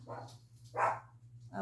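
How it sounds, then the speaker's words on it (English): A dog barks twice indoors, short loud barks with a pause between, heard over a low electrical hum, a third bark starting at the end. "sorry about the dog barking"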